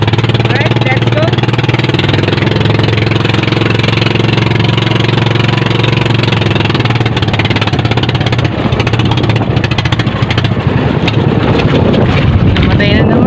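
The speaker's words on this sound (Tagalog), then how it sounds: "ayaw magdiretso yung andar ng makina natin" Engine of a small fishing boat runs loud and steady with a droning hum over wind noise, then grows rougher and uneven toward the end as it falters and stalls.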